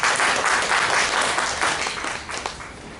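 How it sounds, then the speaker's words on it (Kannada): Seminar audience applauding a student group, a dense wash of clapping from many hands in a room, loud at first and tapering off toward the end. "ಸೊ ಈ ಗ್ರೂಪಿಗೆ ಒಂದು ಚಪ್ಪಾಳೆ ತಟ್ಟೋಣ"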